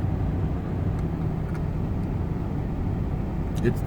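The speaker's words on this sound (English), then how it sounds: "This is Denver traffic." Steady low hum of cars driving on a Denver road on a rainy afternoon, a continuous moderate traffic rumble with faint tyre hiss and a few brief higher sounds.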